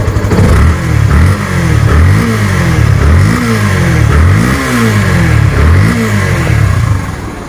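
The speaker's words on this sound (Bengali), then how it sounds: "আর স্যালেন্সারের সাউন্ডটা যদি এই পাশে শোনানো হয় আপনাদেরকে" A used Yamaha FZS V2 motorcycle in Armada blue, about 3100 km on it, revs repeatedly through its exhaust silencer, with roughly six loud, close rising-and-falling throttle blips in a steady rhythm.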